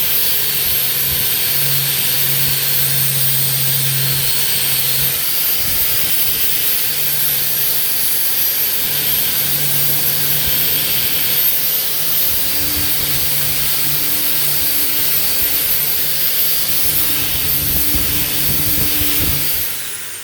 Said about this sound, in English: And now, 3M bristle disc, not a sponsor.